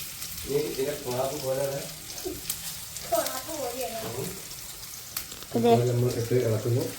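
Sliced onion and curry leaves frying in a hot pan at home, a soft steady sizzle running underneath while a voice talks over it in a few bursts.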